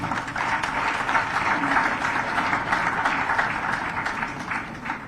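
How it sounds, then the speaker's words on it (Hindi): Dense, sustained applause fills a conference hall at a joint convention of state administrative services, many hands clapping together in a steady wash from a large seated audience, with no voices standing out. "आप ताली तो बजा रहे हो"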